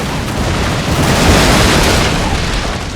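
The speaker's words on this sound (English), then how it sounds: "One broadside." A ship's cannon broadside in a video game roars out as a dense, loud rumbling barrage of booms that merge into one sustained, heavy blast across the whole moment.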